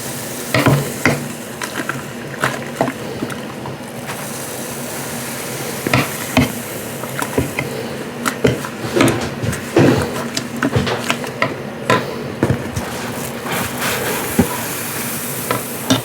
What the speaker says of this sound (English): Making some grain soup.